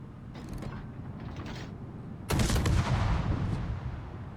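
Ship guns firing in a naval warfare game aboard the destroyer Yudachi, with mechanical creaks followed by a loud, rumbling burst of gunfire that fades out over a couple of seconds.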